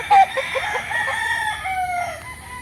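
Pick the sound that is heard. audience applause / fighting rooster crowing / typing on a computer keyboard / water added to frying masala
fighting rooster crowing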